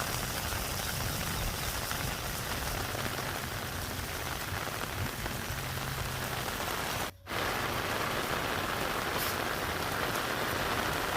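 Steady monsoon rain falling on a forest floor during the rainy season in northern India, a dense, even hiss of drops on leaves and ground that continues unbroken at close range, with no voices.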